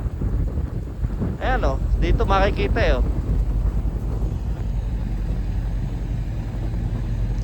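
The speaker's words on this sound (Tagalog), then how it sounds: "Kasi mahangin, napapawid." Strong winter wind outdoors in Calgary, Canada, roaring and buffeting the microphone as a continuous low rumble, with a person speaking briefly near the start.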